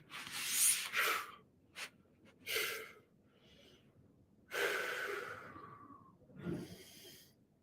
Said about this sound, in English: We're going to focus on our breathing.